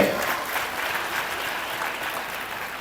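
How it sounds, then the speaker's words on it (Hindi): A church congregation at a Hindi sermon breaks into loud, sustained clapping, a thick continuous roar of many hands that holds steady and eases slightly toward the end. "जोरदार ताली बजा के।"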